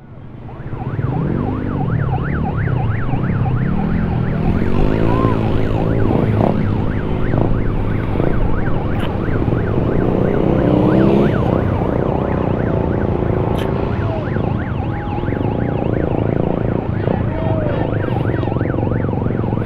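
A police car siren wails in rapid rising-and-falling sweeps on the Marilaque road at Devil's Corner, loud and close, sustained over a constant engine rumble.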